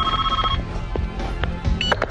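A telephone rings loudly and close by in a short electronic burst at the start, followed by a few scattered knocks and movement noises.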